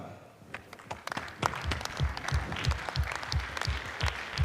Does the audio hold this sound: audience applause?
yes